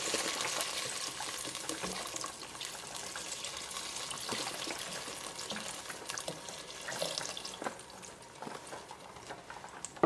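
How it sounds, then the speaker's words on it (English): Vegetable stock poured into a pot of stir-fried vegetable ramen ingredients, a continuous splashing, sizzling pour with faint clinks, close and moderately loud, with no talking. "our next step is to add the vegetable stock"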